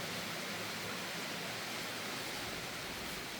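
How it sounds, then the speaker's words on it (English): Rain falls steadily in Ghana, a dense, even hiss of drops with water pouring from a roof spout, continuous and fairly soft with no talking. "oh, look at the rain."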